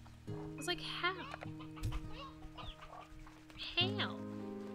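Clucking and squawking chickens from a ranch video game, including a sea chicken, come in short bursts over steady musical tones, with a brief low thump midway.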